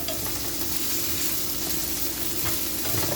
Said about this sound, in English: Right now we got onions here. They're caramelizing